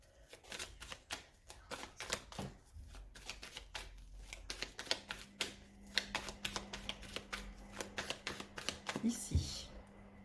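A deck of oracle cards is cut and shuffled by hand, making a rapid run of crisp riffling flicks close by, while a voice speaks quietly over part of it.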